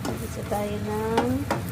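Sausage frying in a pan sizzles steadily up close while being stirred, with a short tonal squeak partway through and no talk.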